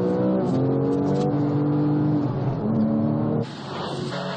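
A Porsche 911 sports car engine revs loudly with a sustained, pitch-shifting growl. Near the end it drops to a rougher, lower-level roar.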